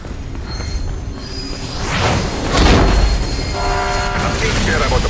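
A train approaches through a tunnel in the video game Mirror's Edge, loud rumbling wheels with shrill metallic squeals and screeching that grow louder and persist throughout.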